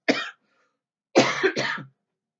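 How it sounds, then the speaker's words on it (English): Three short, close coughs: one on its own, then a pause, then two more in quick succession. "Excuse me, this cough."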